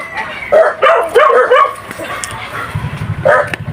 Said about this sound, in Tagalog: Ang kanyang mga alaga, aso.